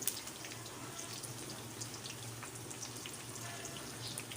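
Eggplant slices frying in oil, a faint, steady sizzle with a low hum underneath, continuous and without talk.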